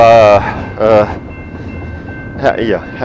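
A train moves along railroad tracks nearby with a rumbling rail roll and loud tonal horn-like blasts in bursts, heard outdoors close to the line.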